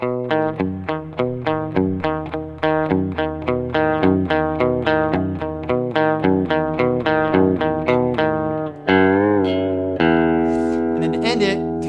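Electric guitar plays a quick repeating riff, plucked bass notes alternating back and forth between two strings, steady and rhythmic, ending with a few sustained, bent notes.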